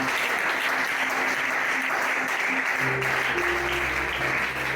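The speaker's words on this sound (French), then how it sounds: "Acclame encore Jésus-Christ." A church congregation applauding and cheering to acclaim Jesus Christ, dense sustained clapping filling the room with no break, a low hum of organ or keyboard underneath.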